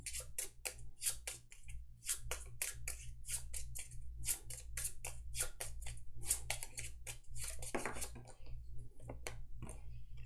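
Backstory cards for the board game Roll Player being shuffled, a dense run of quick papery riffles and flicks filling the whole stretch over a steady low hum, close and moderately loud.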